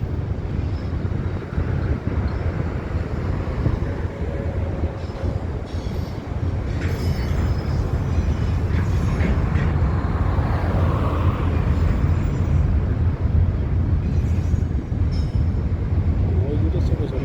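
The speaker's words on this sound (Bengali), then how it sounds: "শুধু ট্রেনেতে কন্টেইনার আর শুধু কন্টেইনার।" A long freight train loaded with containers rolls past near Buqayq, Saudi Arabia, a continuous loud rumble of wheels and wagons with faint squeals. A person talks over it throughout.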